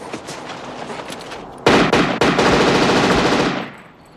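Rapid automatic gunfire in a film scene as a man is shot at: loud, dense bursts of shots that start abruptly, rattle on steadily for about two seconds, then cut off.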